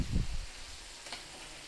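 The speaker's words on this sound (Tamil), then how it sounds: "சிக்கனை போட்டு நல்லா வெங்காயம் தக்காளி மசாலா அதில் பிரல்ற மாதிரி நல்லா பிரட்டி" Chicken fries with onion, tomato and masala in a pan, giving a faint, steady sizzling hiss. A brief low stirring thump comes at the start.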